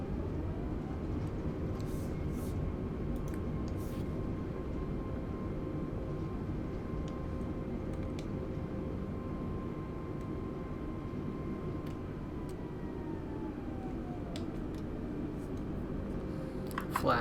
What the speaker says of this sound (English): Let's get reverse thrust.